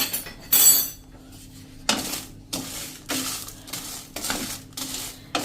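Whole spices and Kashmiri chillies are stirred while slow-roasting in a pan for homemade tea and sabzi masala, giving repeated scraping and rattling strokes at a steady rhythm, close and moderately loud, with no voices.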